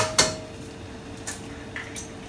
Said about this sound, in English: I'm just going to crack 3 eggs into there as well